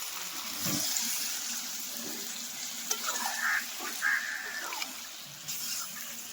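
Water poured into a pan of chicken skin and legs frying, a steady sizzle with a burst of frying noise and a few clinks of stirring, no talk.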